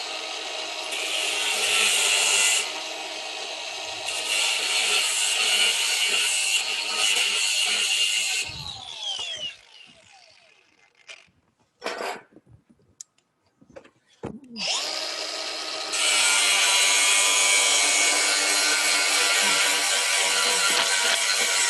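An angle grinder grinds out a weld bead on steel, a loud steady high-pitched whine running for several seconds, stopping with brief clanks and pauses in between, then starting up again and running on, no talk.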